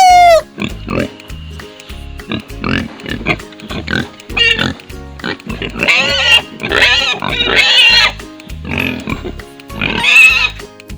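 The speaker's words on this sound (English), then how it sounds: "P for pig." A pig oinks in a run of repeated grunts and squeals, loud and close, set against a steady rhythmic backing beat and a few short sung or voiced notes.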